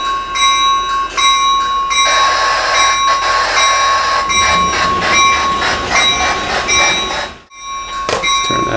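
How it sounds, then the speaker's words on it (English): A model railroad locomotive's sound system rings its bell in a steady repeating clang while reversing, loud and close over a mechanical rumble, briefly cutting out near the end before resuming. "we can turn the bell on, throw it in reverse, back up"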